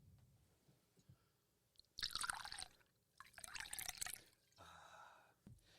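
Liquid is poured into a glass in two quiet splashing bursts with drips and small clinks between them, heard close at very low level.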